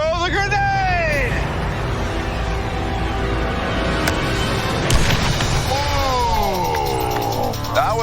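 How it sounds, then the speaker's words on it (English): A deep boom of a grenade explosion within constant crowd babble and rumble, with a sharp burst near the middle and whistling tones overhead. "That was a larger explosion."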